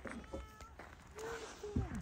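A cat meows several times at close range indoors, short distinct calls spread across the moment, with a person's voice softly heard alongside.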